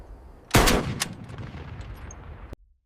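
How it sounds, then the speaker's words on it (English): Radar-directed anti-aircraft guns firing on command at V-1 flying bombs: one loud, close blast quickly followed by a second, then a rolling rumble that cuts off abruptly. "Guns synced. Firing on command."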